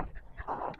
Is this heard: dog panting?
yes